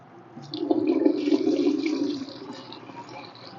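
Vermiwash liquid fertilizer pours steadily into a spray bottle for about two seconds, a close, splashing gurgle that swells and then tapers off into quiet.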